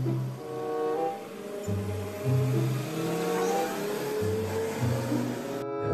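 A Pertamina fuel tanker truck engine drones in a low, steady rumble, with pitch shifting as it revs, moderately close and with no talking.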